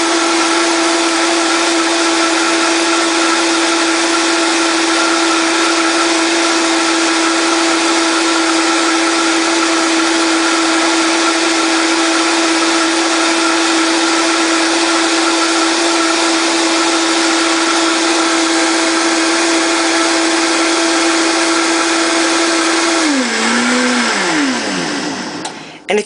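Vitamix blender running on high while blending a smoothie of orange juice, collard powder, celery powder and pineapple: a loud, steady, close roar sustained for over twenty seconds, then winding down as the motor shuts off.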